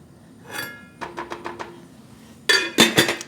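Chickpeas stirred into broth in a metal pot, giving a burst of scraping, a quick run of about five light clinks, then louder clattering spoon-against-pot knocks near the end.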